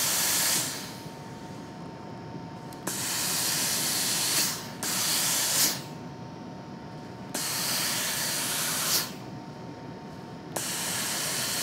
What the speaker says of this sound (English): set my seam by just laying the iron flat and putting steam